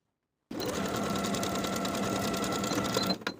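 A sewing machine runs a 5/8 inch fly seam on high-waisted A-line shorts, starting abruptly with a close, steady mechanical whir and rapid needle chatter that holds evenly for about three seconds before cutting off.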